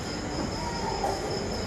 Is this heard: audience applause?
no